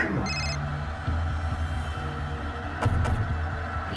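A telephone rings in repeated electronic bursts over a low humming background, then fades without an answer.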